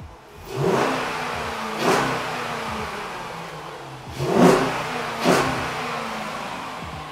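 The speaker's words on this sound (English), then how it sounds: "It sounds badass. Sounds like a Hemi." A 5.7-litre Hemi V8 in a 2012 Jeep Grand Cherokee with a cold air intake revs up sharply four times in two pairs, each blip falling back to a throaty idle, close and loud.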